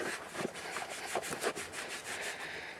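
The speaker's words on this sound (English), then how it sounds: "I'm going to grab one of my old socks and clean off the sway bar here." An old cloth sock rubs and scrubs dirt off the front sway bar of a Toyota Corolla where the bushing sits, giving close, uneven scuffing strokes with no talk.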